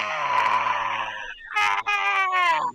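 A creature's ear-piercing screech in a fantasy tabletop battle, a long wailing cry that fades, then two more harsh, harmonic shrieks in quick succession, loud and close, apparently voiced by a person imitating the monster.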